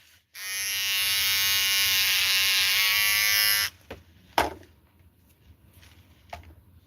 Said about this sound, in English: I'll shave off half my mustache to prove it